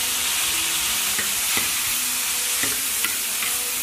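Meat and vegetables stir-fried in warm oil in a wok give a steady, loud, close sizzle throughout, broken by occasional scraping clicks of stirring, with no voices.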